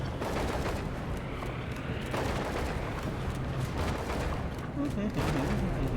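Gunfire in a video game sounds as dense, continuous bursts of shots and booms, loud and close throughout, with a voice talking over it.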